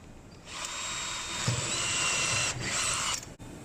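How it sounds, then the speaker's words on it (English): A power drill bores a screw hole during an installation, whining steadily at close range for about three seconds with a brief dip partway through, then stopping. "then we drill the last hole"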